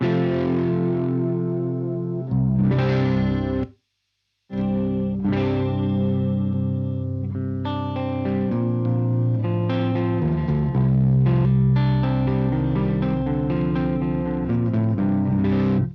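Electric guitar played through a Marshall tube amp with chorus and channel bleed, sustained chords and notes ringing out, one brief dropout of silence early on, no talking.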